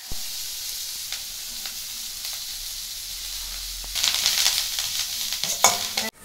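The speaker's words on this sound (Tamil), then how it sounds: "இந்த வெங்காயம் மிளகாய் எல்லாம் போட்டு வதக்கி போட்டு கொடுக்கலாம்." Onion and chili sautéing in a pan with a steady sizzle, plus stirring scrapes that grow louder and busier partway through, close by with no talk.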